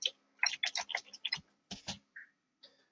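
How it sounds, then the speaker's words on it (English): Typing on a computer keyboard, a quick burst of a dozen or so close, crisp key clicks, then a few slower scattered taps, quiet and alone with no voices. "So I just started typing in there."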